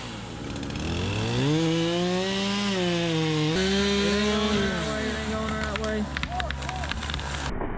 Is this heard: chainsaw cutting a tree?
yes